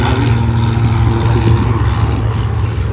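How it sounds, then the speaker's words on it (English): Propeller airplanes at the EAA AirVenture airshow drone steadily and loudly, a continuous engine and airscrew roar with a low buzzing hum that holds without a break. "So many cool planes coming and going."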